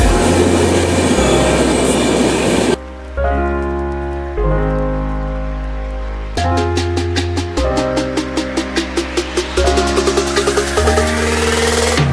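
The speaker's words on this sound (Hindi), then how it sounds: "फाइनली हमर ट्रेन आसी पहुँच गला" A passenger train pulling into a station, loud and close, with heavy rumble and rhythmic clacking of wheels over rail joints, plus brakes and station noise, no talk.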